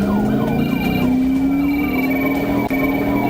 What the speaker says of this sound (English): Lights and sirens